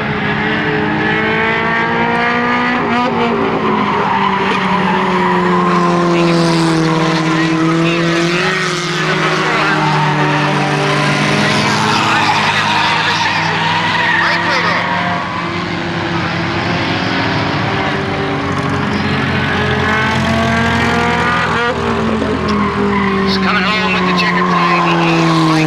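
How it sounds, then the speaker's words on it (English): Number 8 Acura Integra race car lapping a circuit with other cars, engines roaring and rising and falling in pitch, with tire squeal mixed in, loud throughout while a commentator talks over the racing. "One more lap to go for the Wiggle machine, number 8, Acura Integra."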